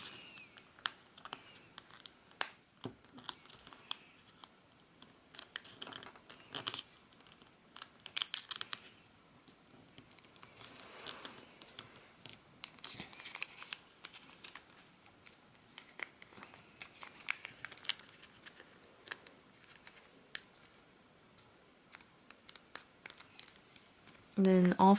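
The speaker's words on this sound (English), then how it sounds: "We're gonna fold it down." Paper being folded into an origami blow-and-spin top gives soft, close crinkles and creases scattered irregularly throughout, faint and papery against a quiet room.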